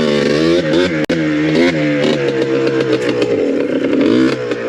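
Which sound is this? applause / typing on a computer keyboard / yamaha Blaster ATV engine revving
yamaha Blaster ATV engine revving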